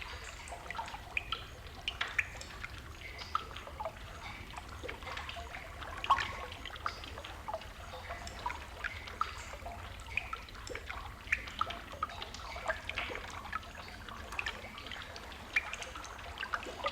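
Water trickles and drips steadily in a small fountain, a faint continuous babble scattered with light irregular plinks, close and quiet with no voices.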